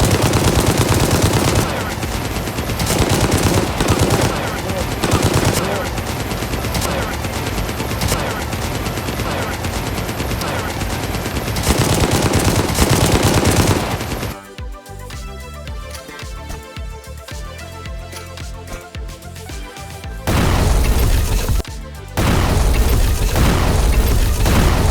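Loud machine gun fire in the video game Gangstar Mirage City rattles in long, dense bursts. A quieter stretch with scattered shots and faint talk falls in the middle, then heavy firing resumes.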